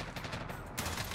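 Rapid bursts of gunfire in Call of Duty: Warzone crackle over a steady background, with a sharper volley toward the end.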